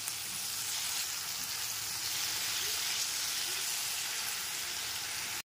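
Mixed vegetables with tomato paste frying on a medium gas flame, giving a dense, steady hiss of sizzling oil with faint stirring underneath, close and even throughout.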